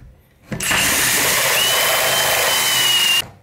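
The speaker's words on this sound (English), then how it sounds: "hole saw and we're gonna simply bore out our little center section here" A power drill with a hole saw spins up abruptly and runs at a steady, loud whine for about three seconds, boring through a door, then stops suddenly.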